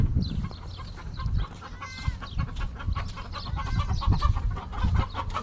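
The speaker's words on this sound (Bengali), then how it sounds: "এখানে বড় বড় মোরগ।" Big farm roosters cluck repeatedly at close range, with short overlapping calls and no talk over them.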